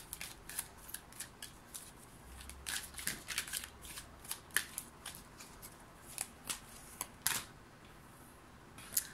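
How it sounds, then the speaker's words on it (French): Tarot cards handled and drawn from a deck during a reading, giving a series of soft, crisp papery flicks and snaps at irregular intervals, close and fairly quiet, with no talking. "Hop, je vais prendre une autre carte."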